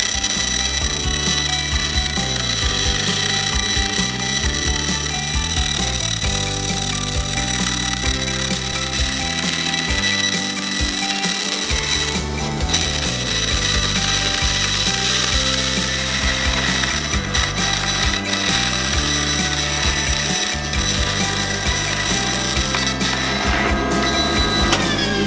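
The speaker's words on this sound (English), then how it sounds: "So we turn on the saw, and let's cut this out carefully." A bandsaw runs steadily throughout, cutting foam for a puppet head, its loud continuous mechanical whir and rattle carrying on without pause and with no voices.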